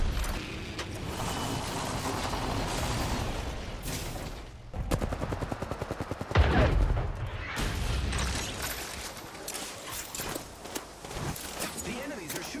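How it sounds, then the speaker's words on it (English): Enemy gunfire in a shooter video game, bursts of shots cracking through a dense game mix with players talking over it, loudest around the middle of the stretch. "The enemies are shooting at me."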